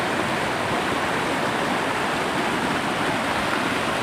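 Steady rushing water at a stream fishing spot, a continuous broadband roar with no breaks, fairly loud and close, heard alone without any voices.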